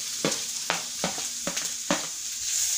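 Grated carrot sautéing in ghee for carrot halwa: five distinct spoon scrapes against the pan at a steady rhythm over a bright, constant sizzle, close by, with no voices.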